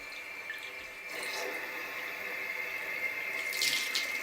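Warm water runs from a bathroom tap onto a beauty blender makeup sponge, a steady, fairly quiet stream with splashing and dripping, and no talking.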